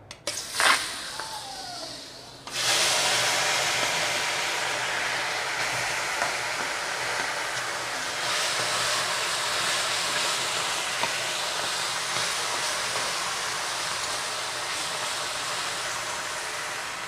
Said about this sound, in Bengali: তেলটা ভালো করে গরম করে নিলাম। এবার এতে দিয়ে দেবো মাছ।